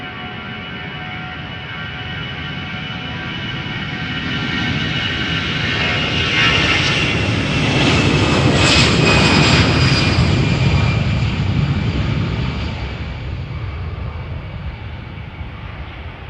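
Lufthansa Airbus A320 jet, 22 years old, roaring past at Amsterdam airport, a broad engine rumble and whine that builds to a peak midway and then slowly fades, loud and steady with no voices.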